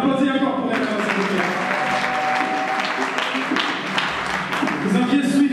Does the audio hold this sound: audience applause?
yes